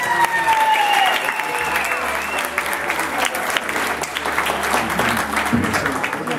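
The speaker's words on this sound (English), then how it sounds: "give friends a round of applause for Elizabeth and James" Wedding guests at a Navy wedding give the newlyweds a loud, sustained round of applause, dense clapping filling the room throughout with a bright tonal sound running under it early on.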